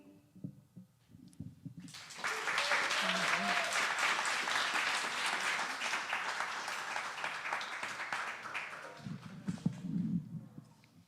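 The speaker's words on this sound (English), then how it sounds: "Round of applause for all of you." A crowd bursts into sustained applause that swells quickly, holds for several seconds, then fades out into quieter room noise.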